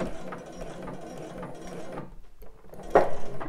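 A domestic sewing machine runs a short lock stitch on a bra, a quiet rapid mechanical ticking for about two seconds, then a pause and a brief click, with no talking.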